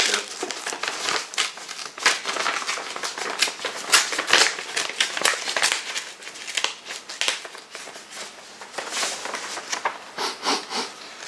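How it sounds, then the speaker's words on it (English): Crinkly wrapping and packaging crackle steadily as a gift parcel is torn into and opened, close and fairly loud, with dense bursts of rustling and no talk. "I'm opening the package."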